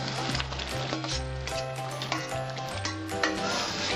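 Pieces of pointed gourd sizzle in hot oil for a Bengali mug dal and potato ghonto, a steady close crackle with occasional soft pops and clinks throughout.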